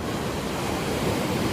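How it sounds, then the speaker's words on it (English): Ocean waves crash against old piers at Haskell's Beach in Santa Barbara as a steady, close, broadband roar of surf and wind, with no talking. "When the waves crash against these old piers, it's actually really cool."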